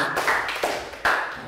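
Classroom applause in a primary-school English lesson, a short burst of clapping with uneven bursts and pauses over about a second and a half, fairly close and moderate in level.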